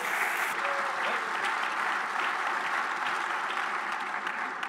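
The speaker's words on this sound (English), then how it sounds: "So can we give a round of applause to all the manufacturers?" Sustained audience applause at a live pinball awards event, steady and dense throughout, a large crowd clapping together without a break.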